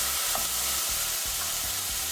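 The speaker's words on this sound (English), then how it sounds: "And now add 1 red sweet pepper, diced." Diced red sweet pepper hits a hot pan, a steady sizzle with soft stirring scrapes in a faint, even rhythm, no voices.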